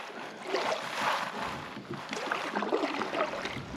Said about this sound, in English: Every time I get my video camera out, the wind just starts picking up.